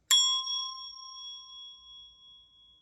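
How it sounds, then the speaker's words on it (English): A single bright strike of a Montessori bell rings out, its clear metallic tone sustaining and slowly fading over a few seconds with no other sound. "in order to get a good sound from this bell, you have to hold it like this"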